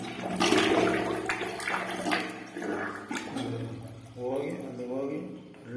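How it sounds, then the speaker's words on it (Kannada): A toilet flushes with a loud rushing swirl of water that gradually drains and trails off, while a person talks over and around the noise. "ಇನ್ನೊಂದ್ಸತಿ ಫ್ಲಶ್ ಮಾಡಿ ತೋರಿಸ್ಬಿಡ್ತೀನಿ."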